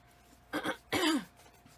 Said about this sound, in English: Please excuse me if I do a lot of clearing in my throat and coughing.